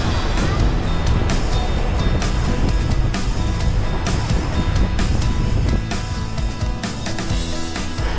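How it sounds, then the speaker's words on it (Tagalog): Strong sea waves surging and crashing near the shore at Dingalan after Typhoon Karding, a loud continuous roar of surf with wind noise throughout and a brief dip in intensity late on. "Ang lakas ng alon ngayon dito guys."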